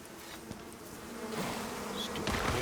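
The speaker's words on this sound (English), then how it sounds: "I hear bees somewhere." Bees buzz in the survival video game Icarus, a faint, close droning hum that wavers and grows slightly louder over a couple of seconds, with no talking over it.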